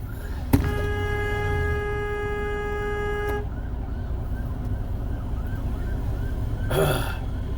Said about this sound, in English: Oh, there's sirens.